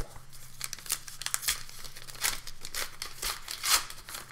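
Foil wrappers of Flesh and Blood Everfest booster packs crinkle and tear open up close, in a run of quick, bright rips and crackles with short pauses between them.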